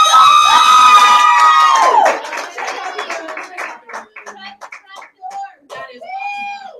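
A crowd at a motivational unit meeting bursts into loud, sustained clapping and cheering for about two seconds, then it breaks into scattered claps and chatter with people talking over it.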